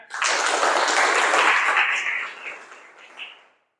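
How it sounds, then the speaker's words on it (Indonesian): A classroom breaks into applause after student presentations: dense clapping from many hands, close and loud, holding steady for about two seconds before thinning out and stopping. "sekali lagi kita beri aplaus untuk kita semuanya"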